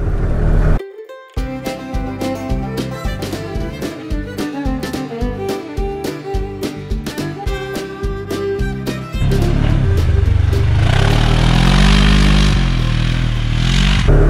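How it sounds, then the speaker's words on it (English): Polaris Ranger 1000 EPS UTV with a 1000cc engine driving soft sugar-sand trails: first a rattling, clattering stretch with rhythmic bumps, then a sustained loud engine roar that rises and swells as the vehicle powers through the sand. "The 1000cc engine had plenty of power to get to that soft sand and kick up some pretty good rooster tails"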